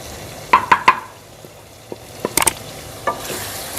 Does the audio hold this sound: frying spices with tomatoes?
yes